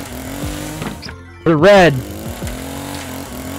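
A chainsaw in the horror video game Escape The Backrooms revs in one loud, rising burst lasting about half a second, with a steady engine drone before and after it, under people talking.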